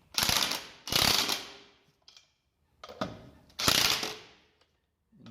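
A torque wrench tightening front brake bolts on a 2003 Honda Civic during a brake and rotor upgrade, heard as four loud bursts of ratcheting clicks separated by short pauses, with no talking.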